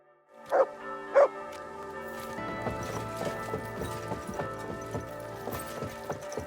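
Horse hooves in the medieval game Kingdom Come: Deliverance 2, a few sharp clops up front, then rhythmic steps under a sustained musical score, fairly faint.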